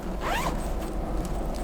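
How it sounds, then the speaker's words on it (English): A zipper on a Onetigris Kompound hammock is pulled in one quick close stroke, followed by faint fabric rustle. "it's got a little zipper here"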